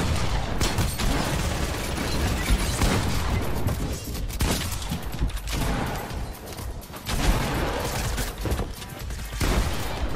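Gunfire in Fortnite: dense, continuous rattling shots and impacts that stay loud throughout, with brief dips, heard alone without talk.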